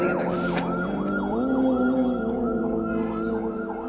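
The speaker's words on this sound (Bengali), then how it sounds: "ডানে কি অ্যাম্বুলেন্স যাচ্ছে" An ambulance siren passes during an outdoor religious sermon gathering, a clear repeating wail sweeping up and down at moderate distance over a sustained low drone.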